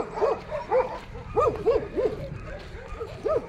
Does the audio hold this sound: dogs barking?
yes